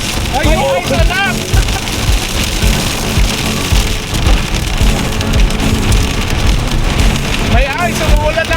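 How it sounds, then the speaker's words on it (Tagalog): Hail clatters down in a dense, steady patter on hard surfaces while excited voices call out over it. "Umuulan ng ice!"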